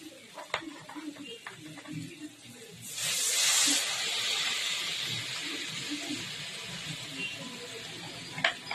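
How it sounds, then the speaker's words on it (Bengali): Water poured into hot oil and spices for a Bengali fish curry bursts into a loud, steady sizzle that holds for several seconds, with faint clinks of utensils before and after. "তো এবার আমি জল দিয়ে দেবো"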